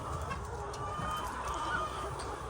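A laying hen clucks softly on a poultry farm, faint and steady across a dense background of other chickens and farm noise, with no clear talk over it.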